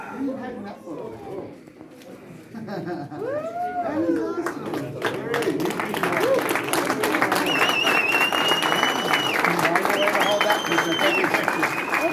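Clapping builds from an awards crowd, starting sparse under chatter and swelling into steady, dense applause with cheers and whistles, while people talk through it.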